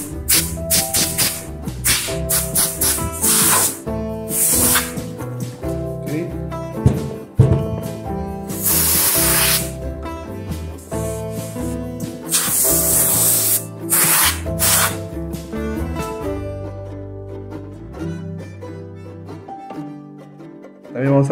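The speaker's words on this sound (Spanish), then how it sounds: "También vamos a dar una pequeña sopletada," Air blower hissing in bursts as it blows dust out of the inside of an accordion, the harsh spray rising and falling over the reeds with some faint clatter.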